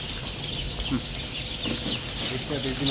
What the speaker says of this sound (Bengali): প্রথম দিনের বাচ্চা অনেক সুন্দর কোয়ালিটির বাচ্চা